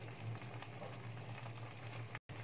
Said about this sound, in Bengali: এদিকে তো চাল আর ডালটা সেদ্ধ হচ্ছে খিচুড়ির জন্য